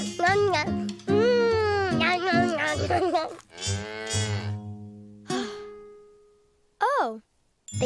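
Cartoon cows from a children's farm show moo in drawn-out, voiced calls, several overlapping and then a few shorter ones, close and loud with a pause near the end.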